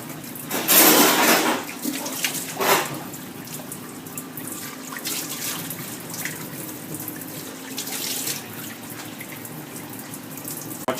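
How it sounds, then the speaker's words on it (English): Cold tap water runs steadily into a kitchen sink during fresh mozzarella making, a broadband continuous rush with louder splashing bursts near the start, heard alone without talk. "add some cold water to it. And keep it running on the side."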